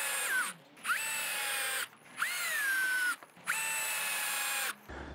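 A power drill drives screws to fix wheels onto a vintage wire crate cart in about four loud, close bursts, each whirring up and winding down with short pauses between.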